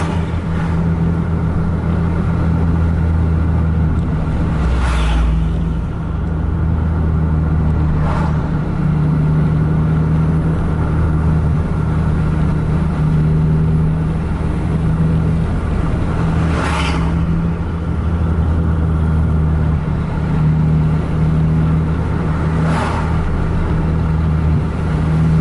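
The Harapan Indah 1626 bus engine drones loudly and continuously on the road, a deep steady rumble mixed with road roar and a few brief swells, with no voices.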